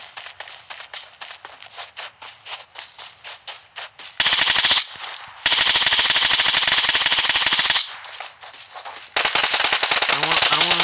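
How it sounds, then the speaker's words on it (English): Video game gunfire aimed at a guard at a Romanian power plant: after a run of soft rhythmic footsteps, several loud bursts of rapid automatic shots ring out close, separated by brief pauses. "I haven't fired a single shot of this one. Let me see if I can fire at that guard right over there."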